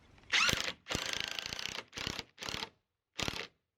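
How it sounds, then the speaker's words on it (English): Decking screws are driven in a series of bursts to fasten a slide onto a backyard playhouse, with five or six close, separate whirring runs of varying length and short pauses between them, and no one talking. "use a couple of regular decking screws to hold this down"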